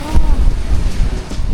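Strong ocean waves at a beach roar as a loud, continuous surf wash, heavily buffeted by wind noise on the microphone.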